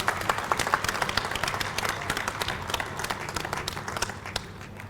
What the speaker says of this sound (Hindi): इनके ऑनर के लिए तालियाँ लगवा दें।